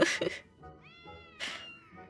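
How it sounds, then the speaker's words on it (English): Cats in the video game Final Fantasy XIV Dawntrail meow in quick succession: a sharp cry, a longer drawn-out mew, then another bright meow. The sounds are clear and close, with quiet gaps between them. "Yes, kitty cats."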